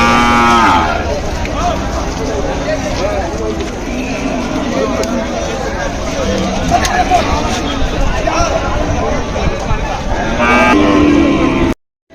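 Ongole cattle low now and then amid a busy outdoor crowd at a cattle market in Kodad, with people talking, a clear moo rising near the end.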